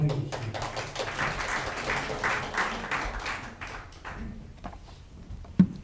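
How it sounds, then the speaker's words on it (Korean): An audience applauds to welcome a speaker at a church thanksgiving service marking a pastors' association's 40th anniversary. A burst of many hands clapping nearby gradually thins and fades, with one loud knock near the end. "박수로 환영해 주십니다."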